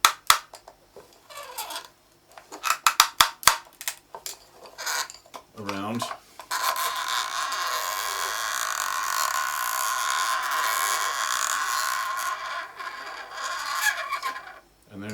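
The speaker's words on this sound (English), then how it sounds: "we've rubbed violin resin on the dowling stick to help it creak more" Creak sound effect made by spinning a rope around a wooden dowel rubbed with violin rosin: scattered clicks and taps give way to a long, steady, raspy creaking drone that holds for about eight seconds before stopping.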